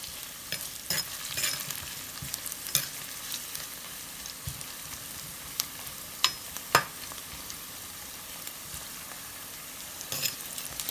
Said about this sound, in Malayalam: ഇനി ഇതൊന്ന് വഴറ്റി നന്നായിട്ടൊന്ന് മൂപ്പിക്കണം